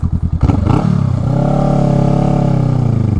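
Honda Rebel 500 motorcycle on a commute, its engine giving a few quick throttle blips before settling into a loud, steady rumbling rev close to the microphone.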